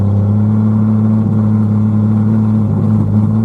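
A 1991 Jeep Cherokee engine that breaks up above 3,000 RPM drones at a steady, loud idle or low rev with a continuous rumbling hum throughout, and no voices.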